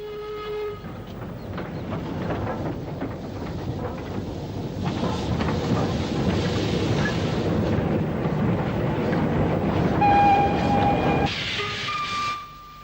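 Two steam goods locomotives, a 7F 0-8-0 and an 8F 2-8-0, double-head a freight train out of Midland Yard at Walsall. A steady, heavy rumble and hiss of wheels and steam runs throughout, with brief whistle-like tones near the end.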